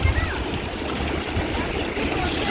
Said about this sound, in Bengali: আওয়াজটা দেখো কুলকুল করে কেমন বইছে।